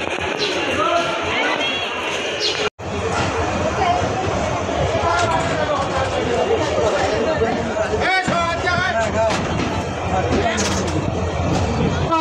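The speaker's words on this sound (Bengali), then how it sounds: "প্রচণ্ড পরিমাণে এখানে যাত্রী চাপ রয়েছে নীলফামারী রেলওয়ে স্টেশনে" A dense crowd of passengers fills Nilphamari railway station in Bangladesh with continuous overlapping chatter and babble, interrupted by a brief sharp cut and some clanks nearby.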